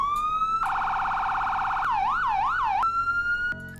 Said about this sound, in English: You've got auto, which plays like a automatic sort of audio that they've created for you.